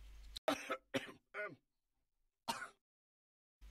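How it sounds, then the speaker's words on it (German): A character in Vampire: The Masquerade – Bloodlines coughs several times in short harsh bursts, each separated by brief pauses, with a final cough after a longer gap. "Das heißt übrigens Husten, für die, die es nicht wissen."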